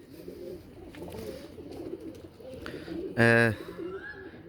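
A single loud pigeon coo rises briefly over a murmur of background voices and noise, close by, then fades.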